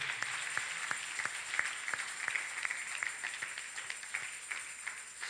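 Congregation clapping during a church service, a sparse run of sharp individual claps in an irregular rhythm, fairly close and moderately loud over a faint steady background hum.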